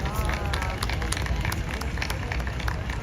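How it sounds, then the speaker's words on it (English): Outdoor street crowd applauding dancers at an Open Streets event in New York, with claps and cheers blending into dense, steady crowd noise and traffic-like rumble throughout. "Can we give our friend a round of applause?"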